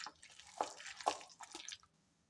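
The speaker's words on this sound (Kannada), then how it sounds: "ನೀರು ಹಾಕ್ಯಂದು ಸಾವನ್ಯಾಗ ಮಿಕ್ಸ್ ಮಾಡ್ಬೇಕು" Bajji batter with soda and water stirred by hand: a few close, wet squelching and dripping sounds in quick succession, fading to quiet at the end.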